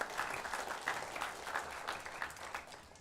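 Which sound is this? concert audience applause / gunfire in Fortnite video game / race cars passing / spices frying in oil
concert audience applause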